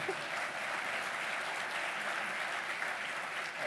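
Audience applause at a public conversation with a former United States Senator, a steady dense wash of clapping from a large crowd that holds evenly for several seconds with no voices over it.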